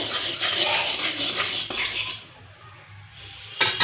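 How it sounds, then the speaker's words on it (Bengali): A metal spoon scrapes and clinks against a wok as turmeric powder and salt are stirred into mustard oil, with close repeated rubbing strokes, a brief pause, then a sharp clatter at the end. "এবার তেলের মধ্যে আমি দেব হলুদ গুঁড়ো আর দেব নুন। একটু মিশিয়ে নেব।"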